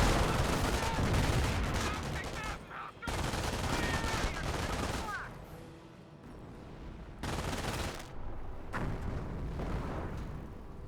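Dense rifle fire and explosions from a real-time strategy video game battle with rifle squads, cannon half-tracks and mortars, sustained bursts broken by short lulls, with a faint commentator voice underneath.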